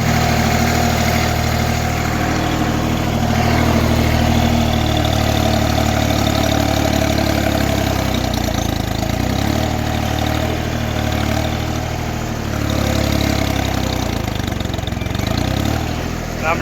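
A farm tractor idles steadily close by with a loud, continuous low engine rumble that stays even throughout, while someone talks over it.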